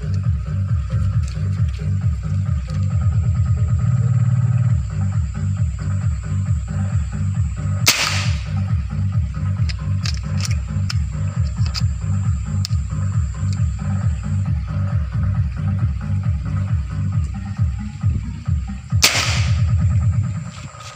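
Two sharp, loud cracks of a .25 caliber bottom-magazine PCP air rifle ring out about eleven seconds apart, set against a steady rhythmic mechanical pulsing background.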